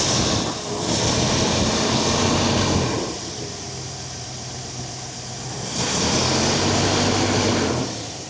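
A 1961 Buick engine runs steadily with a light ticking, a loud, close, continuous roar that swells and eases in a couple of slow waves, with no talking.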